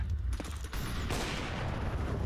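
Rapid gunfire bursts in a Counter-Strike match at a Tipsport CS Winter tournament final, with sharp shots around a dense continuous crackle and rumble, fairly loud with no speech.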